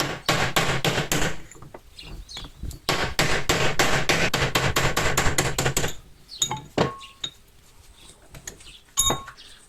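Rapid metallic hammer blows knocking metal plugs out of a car ABS unit, in two dense bursts, followed by scattered lighter knocks and clinks, close and fairly loud with no talking.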